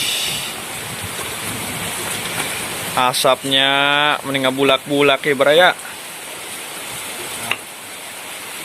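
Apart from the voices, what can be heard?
rain falling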